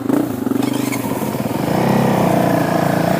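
A Honda CRF250F dirt bike engine passes close by, a loud, pulsing four-stroke note that swells and holds steady as it goes past.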